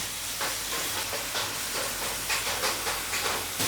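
Masala and onions fry in a pan for a fish pickle, giving a continuous loud sizzle and hiss with faint bubbling pops throughout.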